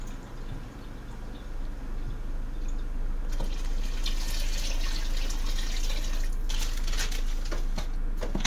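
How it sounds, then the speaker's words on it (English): Purified water pours from a container into a pot of broth on a home kitchen stove, a steady close liquid splashing and trickling that grows fuller partway through, with no talking. "then I'm just going to be adding in some of my purified water and just filling it on up"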